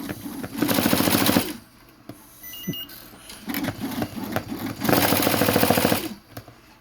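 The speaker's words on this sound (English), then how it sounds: "I move the needle and it gets that grind noise right there" A Tajima embroidery machine runs in two loud bursts of rapid, rattling stitching with a quieter grinding stretch between them, close by and with no talk over it.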